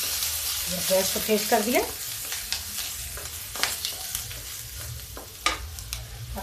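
Fenugreek seeds for kadhi crackle and sizzle in hot oil over a high gas flame, with sharp pops scattered through a busy frying hiss. A person speaks briefly near the start.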